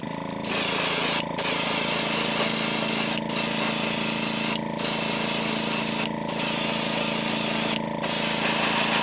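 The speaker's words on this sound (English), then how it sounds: "So let me get out Createx Opaque White and get some of that in there quick. We'll give her a good coat of white." An airbrush sprays Createx Opaque White onto a vehicle wrap in long, steady, loud hissing bursts. Five brief pauses break the spray, and no one speaks.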